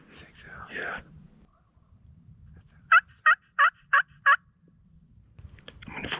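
Wild turkeys gobble from the roost at a distance, five quick, evenly spaced calls in a row, framed by hushed whispering before and after.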